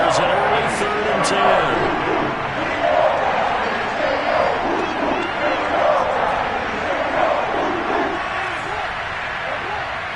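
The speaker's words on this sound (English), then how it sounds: "Crowd getting in it a bit already" A stadium crowd at a football game against the Browns roars steadily as a broad, continuous wash of noise, with a commentator talking over it throughout.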